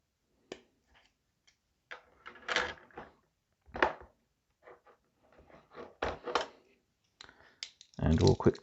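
Plastic miniature model parts being cut from their sprue for a tabletop game building kit, a scattered run of sharp clicks and snips at close range, irregularly spaced, with some quiet handling noise between.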